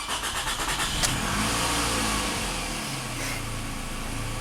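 A Toyota Camry engine cranks in a quick run of rhythmic pulses, then catches and settles into a steady, close running idle.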